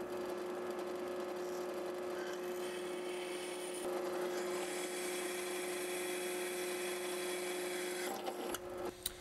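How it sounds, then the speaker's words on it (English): A drill press bores holes in a steel knife blank, a continuous steady motor whine with grinding texture holding for several seconds before a few clicks and knocks near the end. "head over to the drill press to remove material"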